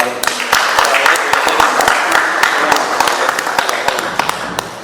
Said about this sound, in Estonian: peale sinule suur aplaus